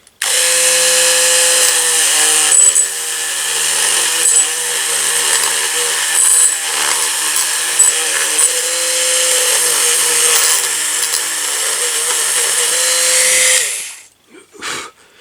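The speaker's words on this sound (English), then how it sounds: "one of these little wire wheels on like a Dremel, and try and clean it out a little bit" A Dremel rotary tool fitted with a small wire wheel scrubs corrosion out of metal, a loud, high steady whine with a rough scratchy edge lasting about fourteen seconds before winding down, followed by a few light knocks.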